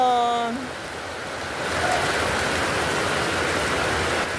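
Heavy rain pours steadily in a dense, hissing wash, briefly joined at the start by a short tonal whistle before the downpour continues alone.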